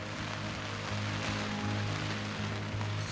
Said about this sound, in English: The rain hasn't stopped much all night.